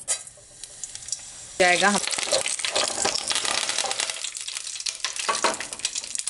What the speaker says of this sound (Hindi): अभी हम इसमें डालते हैं हमारा राई दाना